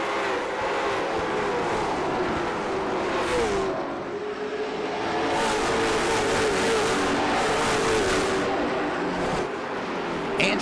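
A field of late model stock cars races around the asphalt oval at South Boston Speedway, engines roaring steadily and loudly with rising and falling revs as cars pass, under continuous crowd and track noise.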